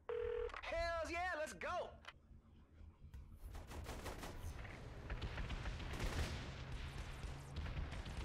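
A mobile phone in Saints Row: The Third dialing: a string of rising and falling tones, then dense bursts of gunfire and explosions that run on loudly to the end. A voice speaks over the tones.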